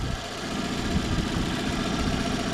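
A Daewoo Matiz engine idles steadily while warming up, with a low, even rumble and slight vibration, continuous and close, with no voices.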